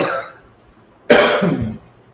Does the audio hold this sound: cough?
yes